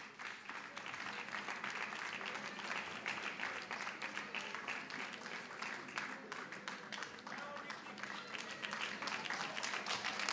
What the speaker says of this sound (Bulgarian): Силни аплодисменти!